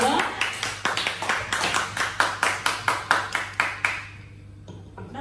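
A family audience claps for guitarist Xuân Hùng at a Lunar New Year's Eve home gathering in Saigon: a steady run of about fifteen sharp, close hand claps that fades out near the end.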